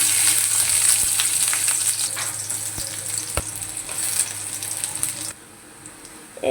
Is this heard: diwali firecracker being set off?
no